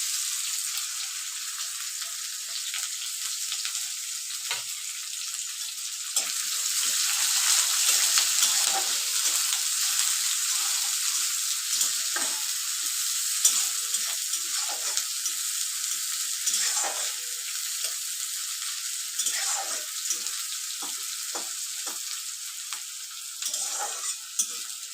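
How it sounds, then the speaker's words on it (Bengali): Chopped onion fries in hot oil and dry spices for egg curry, a steady close sizzle under repeated scraping and clinking of a spatula stirring the pan, with no talking. "অনিয়নটাকে ব্রাউন কালার আসা পর্যন্ত ফ্রাই করে নেব।"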